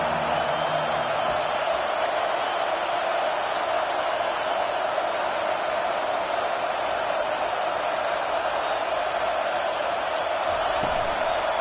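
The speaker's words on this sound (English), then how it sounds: "This crowd bringing an ear-splitting welcome to their visitors." A packed stadium crowd at a Texas vs. Virginia Tech college football game roars in a steady, dense wall of cheering and noise that holds loud and unbroken throughout.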